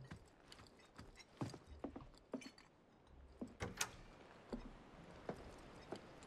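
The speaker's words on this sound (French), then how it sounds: "Suivez les bruits de pas vers le jardin." Footsteps in the Final Fantasy VII Remake video game, a run of distinct clopping steps at an irregular walking pace, moderately near, with faint room tone and small clinks between them.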